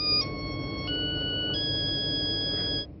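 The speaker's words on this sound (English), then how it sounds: "This new phone also comes with a music composer, so you can create your own unique cell phone ring." A custom-composed cell phone ringtone plays alone as a short electronic melody of steady stepped tones, loud and clear, cutting off at the end.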